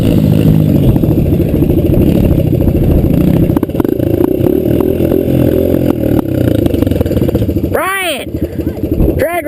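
A Kawasaki KLX dirt bike engine revs loud and close at a drag race start alongside an 80cc bike, the rough droning buzz running steadily under chatter, then sharp rising revs near the end.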